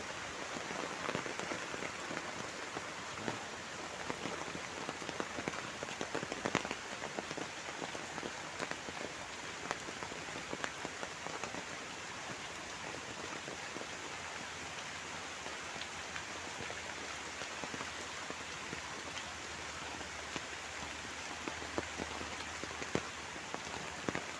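Heavy rain pours down on a village, a dense, steady hiss of drops striking surfaces that holds constant and close for the whole stretch with no voices.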